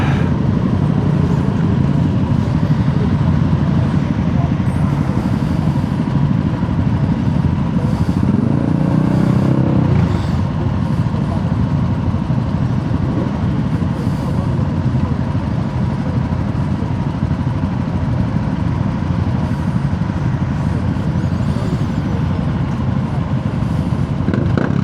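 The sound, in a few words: Ducati Monster SP motorcycle attempting a burnout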